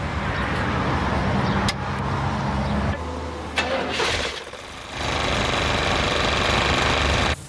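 A Magnum engine-driven air compressor runs on a vehicle, giving a loud, steady mechanical drone close by that drops out briefly midway and then resumes, with no voices.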